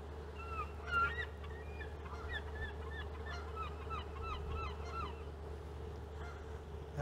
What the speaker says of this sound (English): Got some gulls yelling at us here.